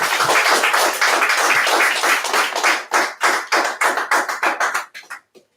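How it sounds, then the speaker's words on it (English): A congregation at a temple service applauds a spokesman, loud close hand claps that start as a dense burst, then thin into separate distinct claps and die out near the end. "Can we please give the spokesman a round of applause?"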